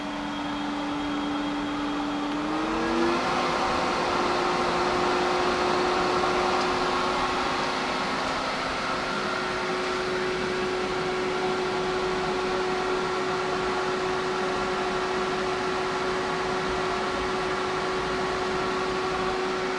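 A pool pump for a heat-pump pool running at 3200 RPM, a steady loud motor hum and rushing whine that steps up in pitch early on, then holds constant with no talking.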